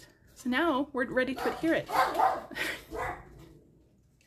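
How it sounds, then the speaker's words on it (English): A dog barks at a delivery driver outside, several sharp yips and barks mixed in with someone talking in the room, fairly close and moderately loud. "my dog still thinks he needs to protect. So I don't know if you can hear all the barking"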